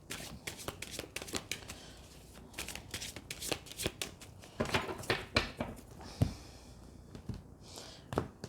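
Tarot cards are shuffled close by in quick, irregular riffles and flicks, soft papery slaps coming in uneven clusters over a quiet room.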